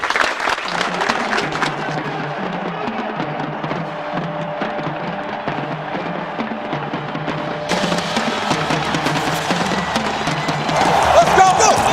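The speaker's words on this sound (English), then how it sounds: "Give yourselves a round of applause." Sustained applause from a crowd, steady and moderately loud throughout, with voices and cheering mixed in and a brighter swell near the end.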